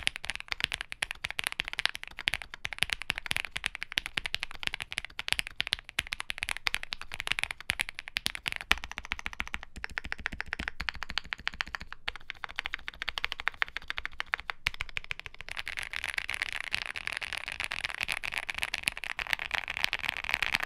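Rapid muted typing on a Mammoth75 mechanical keyboard with Gap Black Ink V2 switches and Poron dampening, dense soft clacks in a continuous stream, quiet and close with no talking.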